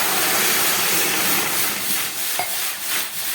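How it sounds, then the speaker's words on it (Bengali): Water poured onto frying mung dal in a hot pan bursts into a loud steamy hiss and sizzle that slowly fades and flutters. "এবার এর মধ্যে দিয়ে দিচ্ছি জল।"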